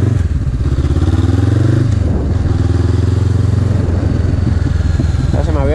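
A Honda CB500F motorcycle engine with its exhaust runs loud and close, a steady throaty drone that rises and falls in pitch as it revs, with light mechanical clatter along the way.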